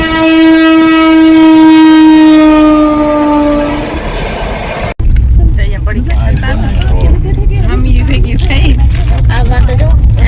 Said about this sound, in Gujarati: ટ્રેન આવી